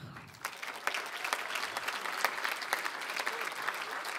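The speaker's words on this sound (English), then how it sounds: "Let's give a warm round of applause to Aloha Graphics" Audience applause at the San Marcos State of the City Address, honoring Aloha Graphics as a name is called from the stage; dense, steady clapping from a crowd swells in after a brief quieter start and holds for several seconds.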